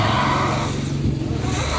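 A car stuck in snow at Murree revs its engine hard, a loud, continuous rough growl rising and falling as the wheels struggle, with faint squeals.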